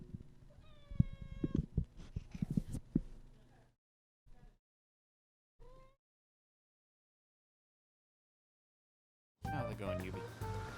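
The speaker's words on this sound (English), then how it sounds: "There's a cat on my lap now." A cat sitting on a lap gives a few close meows, a rising tonal call followed by two short softer ones, set among game music and effects that drop out in between.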